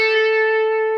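A distorted electric guitar from a solo phrase rings out one sustained, steady note with bright overtones, loud and alone, cut off after about a second.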